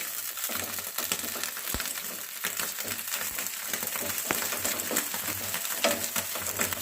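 Eggplant pieces fry in a pan with a steady crackling sizzle, broken by sharp scraping clicks and taps as the pieces are flipped one after another.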